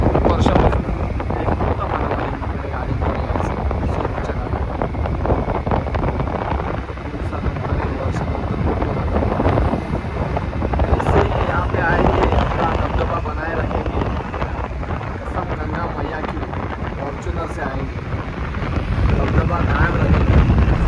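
Strong wind buffets the microphone in a continuous loud rumble while riding a motorbike on the road from Chiplun to Sangli, with a person talking over it throughout.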